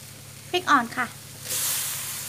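Bamboo shoots with egg and chilli stir-frying in a pan, a faint low hiss at first, then someone speaks briefly before a loud, bright sizzle surges up and holds.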